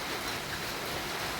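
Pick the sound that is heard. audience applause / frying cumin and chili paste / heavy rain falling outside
heavy rain falling outside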